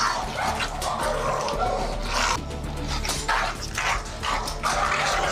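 A dog confined behind wire mesh barks loudly and repeatedly while struggling against trainers, the sharp close barks broken by whimpers and scuffling.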